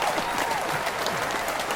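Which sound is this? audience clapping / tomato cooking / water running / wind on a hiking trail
audience clapping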